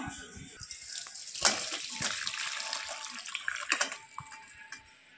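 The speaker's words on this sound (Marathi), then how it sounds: "आता आपण ही चाळणीमध्ये काढून घेऊया।" Boiled soybean chunks poured into a metal strainer, water rushing and draining steadily with splashes and trickles throughout, fairly close and continuous.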